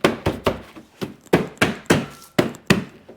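Parts of a 2007-2009 Toyota Camry headlight are tapped into place during lens replacement, about nine sharp, close knocks in a fairly even rhythm.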